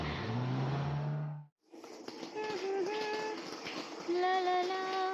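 A car engine starts with a low rumble, cuts out briefly, then revs and pulls away, the engine note climbing in steady tones over music-like harmonics, close and loud throughout.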